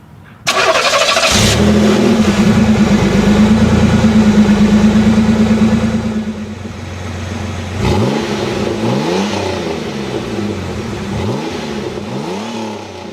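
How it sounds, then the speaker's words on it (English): A car engine cranks and catches loudly, revs in a sustained roar, then settles into lower idling with several rising revs toward the end, all close and with no talk. "start those engines"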